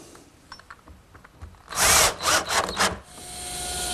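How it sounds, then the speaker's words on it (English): Power drill driving screws through pre-drilled holes in a wooden jig, a few quiet handling sounds then several loud whirring bursts close by with short pauses between, alone without speech. "I'll permanently affix it with some screws"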